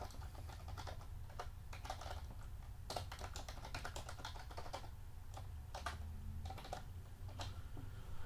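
Soft, uneven tapping of keys on a computer keyboard as comments are typed, quiet and close in a calm room with a low steady hum underneath and no speech.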